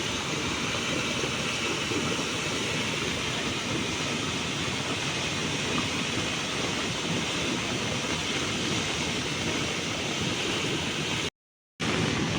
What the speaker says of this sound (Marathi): काजळी नदीला महापूर चालाय